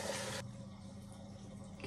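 Water rushes out during household cleaning, a loud burst that cuts off abruptly and leaves a quiet room hum.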